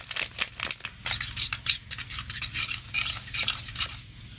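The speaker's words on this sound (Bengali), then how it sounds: "আর এখানে আমরা জল নিয়ে নিয়েছি, একটু দুধ গুলে নেবো" Milk being stirred into water in a bowl while cooking aloo biryani: quick, close, rhythmic scraping and clinking of a spoon against the bowl, fairly quiet.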